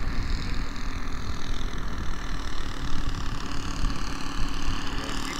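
The four-stroke engine of a quarter-scale Klemm L20 model airplane drones steadily in flight at low throttle, a continuous even buzz heard up close with wind rush and no break in the sound.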